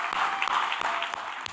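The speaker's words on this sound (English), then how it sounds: "round of applause first for Cable 14" A room full of people applauding at an awards ceremony, a dense, steady roar of clapping that fills the whole short moment, close and loud with no talk over it.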